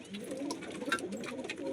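Red Punjabi pigeons and other birds in a home loft coo softly amid busy, faint background chatter and rustling.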